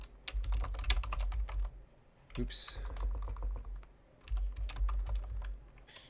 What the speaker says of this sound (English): Then if we start typing again,